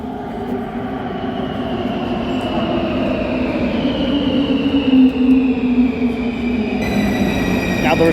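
A Warsaw metro train rumbles steadily along the track, its hum rising slightly, with a high squeal of wheels near the end.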